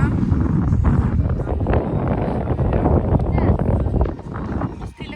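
Strong outdoor wind batters the microphone with a loud, continuous low rumble and roar. The gusts stay heavy throughout and ease off slightly near the end.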